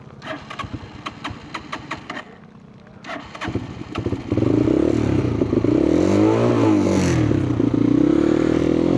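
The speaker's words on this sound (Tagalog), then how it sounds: "Mapalya-palya. Parang nababasa na naman yung spark plug." Motorcycle engine sputtering and misfiring from a rain-wet spark plug during a flooded monsoon-season ride, uneven clattering pulses at first, then a louder sustained rough running note close to the microphone.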